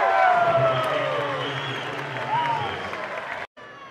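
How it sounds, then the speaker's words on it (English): A baseball stadium crowd cheers and applauds during an Olympic qualifier game between Venezuela and the USA, a loud, dense roar with whistles and whoops, a broadcast voice over it, cutting off abruptly near the end. "look at Todd Frazier firing up the crowd behind the plate"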